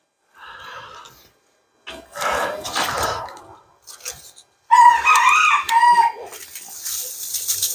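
A rooster named Garley crows loudly and repeatedly at close range while chickens cluck around him on a farm, the calls arriving in separate bursts with short quiet gaps.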